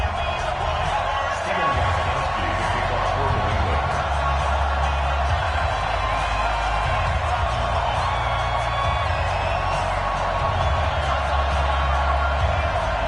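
Crowd noise from a sold-out stadium in the Madden 18 football game fills the background as a steady, dense roar under continuous play-by-play commentary.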